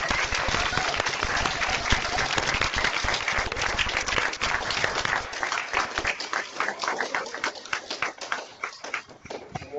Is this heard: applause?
yes